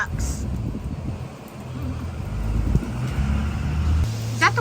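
Strong wind during a Texas thunderstorm roars as a steady low rumble inside a car, with road noise mixed in and a few voices speaking over it.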